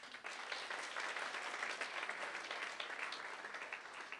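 A crowd at a university sports awards gala applauds for an athlete being introduced, a dense, even wash of clapping that starts abruptly and holds steady throughout.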